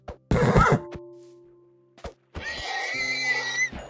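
A horse in Minecraft is struck and killed: a short, loud thudding hit burst comes first, then after a pause a longer, strained, whinny-like cry that fades out.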